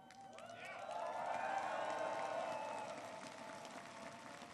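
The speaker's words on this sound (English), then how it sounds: "Give her a round of applause" Audience applauding President Sandu during a presidential speech on Russia's assault on Ukraine, a faint, distant wash of clapping from a large crowd that swells, holds steady, then tapers off gradually.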